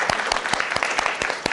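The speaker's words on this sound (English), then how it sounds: "A round of applause, a warm welcome." Brief applause at a workshop on inclusive emergency preparedness as a guest is welcomed, a small group clapping in distinct, fairly sparse claps over a second and a half.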